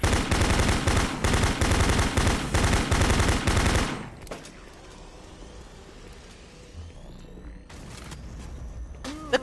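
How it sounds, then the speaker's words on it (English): A Doom 3 grenade on Nightmare difficulty goes off after bouncing back, preceded by loud rapid gunfire that cuts out, leaving a low rumbling tail and a few faint clanks and thumps. "The grenade bounced back."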